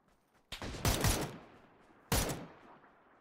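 Gunfire in PUBG, a distant-sounding burst of several rapid shots followed by a pause and another sharp shot, each cracking loudly and trailing off in echo, with no talk.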